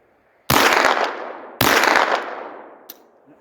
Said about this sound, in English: Let's see if I can make that shot at 100 yards.